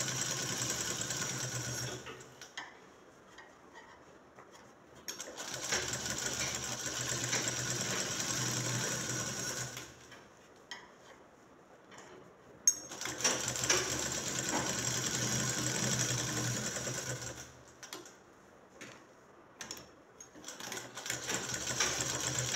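Sewing machine stitching shirt fabric in long steady runs, loud and close, with brief pauses between bursts where the motor stops and the cloth is repositioned.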